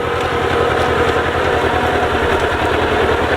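An old, reconditioned walk-behind farm tractor runs with a loud, close engine, its rough rhythmic putter building steadily across a few seconds with no talk.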